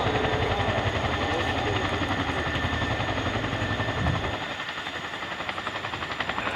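Chinook HC5 twin-rotor helicopter climbing into a hover at an air display, a loud, steady rotor and engine roar with rhythmic blade thumping that eases slightly partway through and stays dense throughout.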